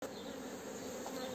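Honey bees hum around a hive as the first honey super is set in place, a dense, continuous buzzing swarm heard close and steady throughout.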